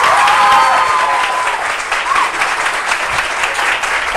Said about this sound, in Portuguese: É isso aí, palmas nosso querido Edu Caetano